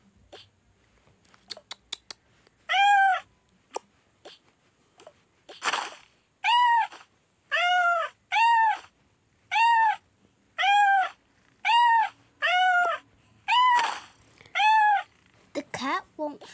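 A house cat meows repeatedly and clearly, about ten evenly spaced meows close by, following some scattered clicks and short noises early on.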